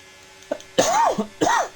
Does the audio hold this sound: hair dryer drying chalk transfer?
no